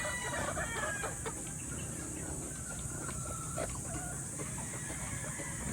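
Chickens cluck busily all around while roosters crow now and then, a crowded farmyard din with a steady hiss beneath and no voices.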